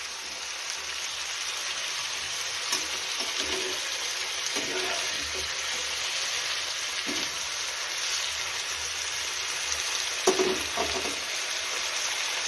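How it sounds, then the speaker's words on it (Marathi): Potato slices sizzle and crackle steadily in hot oil, a loud continuous frying hiss with occasional stirring clinks and bubbling bursts, no voices. "तर असे बटाट्याचे काप करून घेतलेले आहेत उभे, तेलामध्ये टाकून घेऊया।"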